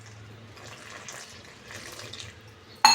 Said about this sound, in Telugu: ఇవి వాటర్ వేసుకొని కలుపుకోవాలి.